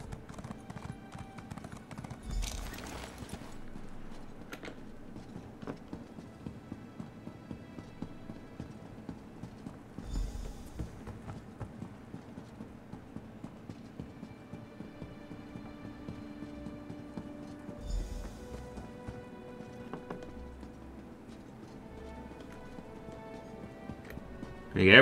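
A horse's hooves clip-clop in Elder Scrolls Online: a steady, even run of moderately loud hoofbeats that continues throughout, with a player talking over it.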